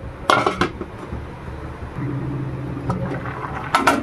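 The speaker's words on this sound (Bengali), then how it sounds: "এবার ঢাকা দিয়ে দেবো।" A lid set onto a cooking pot of shrimp and ole stalks gives a couple of sharp metallic clanks near the start and again at the end, with a low simmering hum between.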